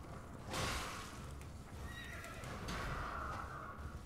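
A horse in Elden Ring neighs in a couple of short, breathy whinnies, with hoof clip-clops and low rumbling game ambience underneath.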